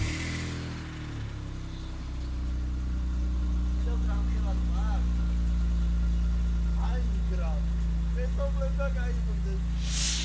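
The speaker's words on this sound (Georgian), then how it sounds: "ეხლა გაჩვენებთ ხალხო cold starts." A stock BMW E46 M3 engine idles right after a cold start, a steady loud close-up drone with a deep, even rumble throughout. Voices talk faintly in the background partway through.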